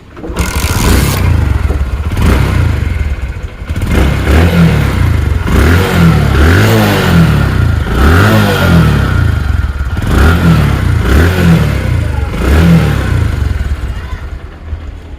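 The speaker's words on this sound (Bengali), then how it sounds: "বাইকটির সাউন্ড কন্ডিশন একদম খুবই ভালো যদি দেখায় আপনাদেরকে বাইকটির সাউন্ড" A used Discover 110cc motorcycle engine runs close by, revved repeatedly in rhythmic surges with clattery idle between throttle blips, loud and continuous throughout.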